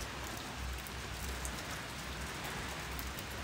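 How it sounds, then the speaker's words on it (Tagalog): Heavy rain pouring outdoors in Batangas, a dense, steady wash of falling drops with no breaks, fairly quiet in level. "Ayan, malakas ang ulan."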